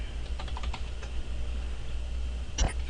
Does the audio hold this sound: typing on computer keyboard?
yes